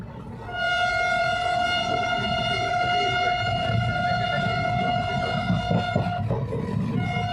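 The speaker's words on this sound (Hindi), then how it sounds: "ट्रेन तो बठिंडा से निकल चुकी है।" Bathinda–Delhi Superfast express train running just after leaving Bathinda, a long steady horn blast with strong harmonic tones over a continuous rumble of wheels and coaches, heard from on board.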